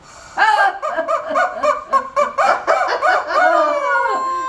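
A voice imitates a chicken with a rapid run of loud, rhythmic, sing-song clucks, close and alone, ending in one long drawn-out crow-like call.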